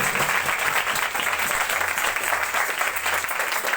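Loud, dense applause from a church congregation clapping hard with both hands in praise, a steady unbroken roar of many hands filling the whole span.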